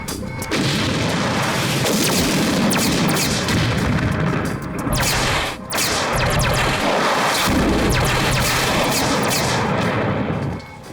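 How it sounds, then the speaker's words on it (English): Sci-fi spaceship weapons launching countermeasures: a dense, loud roar of booming blasts and crackling bursts rolling continuously, with a brief dip midway before the barrage resumes. "Armed, firing countermeasures."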